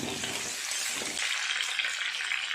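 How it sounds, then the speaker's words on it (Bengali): Potatoes frying in hot oil in a pan give a steady, close hiss that shifts partway through as they are stirred, with no voices. "আলুগুলো একটু নাড়াচাড়া করে ভালো করে ভাজা করে নেব।"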